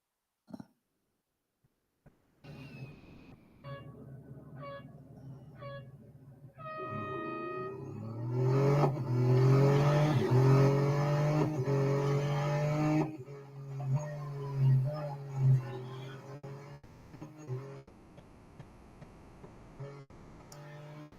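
Race car engine from the Real Racing 3 game on the Bugatti circuit autocross, starting with a few faint ticks, then a steady loud engine drone that swells through gear changes before tailing off, with no talk.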